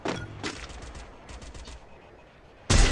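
Gunfire in a shooter video game: a quick series of sharp shots fades into a reverberant tail, then a loud, close burst of fire hits at the end.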